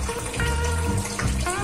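RO water remineralized with Qualdrop pours into a 65-litre planted aquarium as it fills, a steady, close rushing splash with a full, bubbling low rumble.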